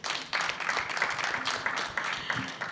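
Audience applause at an event honouring a writer and director, a dense, steady wash of clapping that rises sharply after a brief start and holds for a few seconds.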